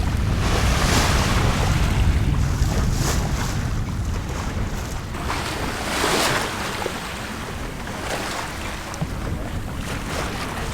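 A sailboat moves through ocean waves off Santa Cruz, California, at about 3.3 knots, with steady surf and water wash and strong wind buffeting the microphone throughout, no voices.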